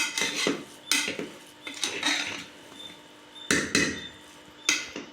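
Vegetable biryani made with seeraga samba rice being stirred in a pot, with a spoon scraping and clanking against the metal in irregular bursts, close and fairly loud, with no talking.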